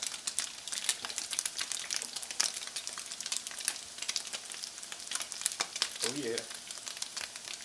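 Sausage fries in a pan for a white bean and kale stew, giving a soft, continuous sizzle with crackles and spits throughout. A brief voice cuts in near the end.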